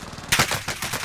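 A quick burst of rapid gunfire rattles in an online shooter video game, several sharp shots in fast succession, fairly close and loud.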